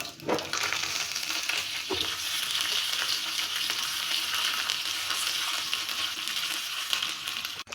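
Curry leaves sizzle and crackle loudly in hot oil after mustard seeds have popped, a continuous bright frying hiss with occasional pops and stirring.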